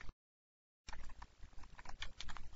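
Rapid typing on a computer keyboard as code is entered: a dense run of close key clicks after a brief silence.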